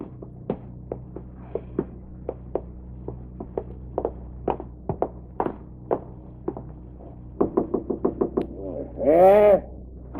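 Knocking sounds at a front door in a 1947 radio drama: a long series of spaced, hollow single knocks, then a quicker cluster of raps, followed by a brief bleating-like voice at the end.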